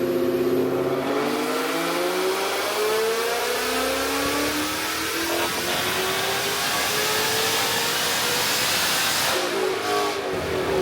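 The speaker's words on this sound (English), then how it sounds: "let's spin one more dyno run up here" Whipple-supercharged 2020 Mustang GT on a dyno, engine climbing steadily through a long loud pull with rising whine and hiss, then dropping off near the end.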